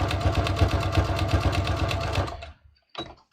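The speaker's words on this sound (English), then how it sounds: "Now notice how long it's taking to sew this one little piece." A sewing machine stitches a triple zigzag on jeans with a rapid, steady mechanical chatter up close, then stops and gives one short final burst.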